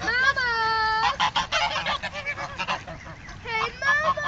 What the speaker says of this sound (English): those are the white geese